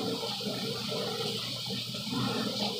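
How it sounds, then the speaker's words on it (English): Hands washed under a kitchen tap, a steady close rush of running water with no talking. "Wash my hands again"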